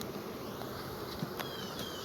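Honeybees hum around a hive frame in a dense, steady buzz, close and low, a busy swarm droning continuously without talk.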